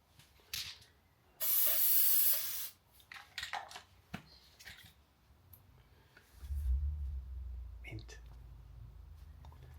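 A spray gun lays a heavy coat of paint on a handmade metal kick panel, giving one loud, steady hiss of about a second amid quieter workshop rustling, with someone talking afterward.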